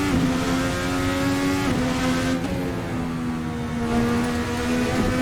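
A racing sim car's brakes lock up and it slides, with a loud, continuous engine drone whose pitch dips and shifts. Faint tire noise sits beneath, and no one speaks.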